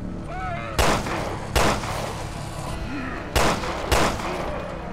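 Four loud gunshots from a video game, Resident Evil Revelations 2, spaced irregularly over a few seconds, each a sharp broadband crack with a brief tail, set against steady game ambience and faint musical tones.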